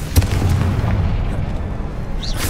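A Confringo fire spell explodes in Hogwarts Legacy, a loud booming blast at the start followed by a rumbling low roar and a brief whooshing flourish at the end.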